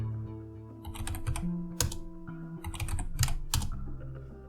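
Fingers tap rapidly and unevenly on a computer keyboard while entering commands during an Arch Linux installation. Keystrokes are close and crisp in short bursts, with no voices.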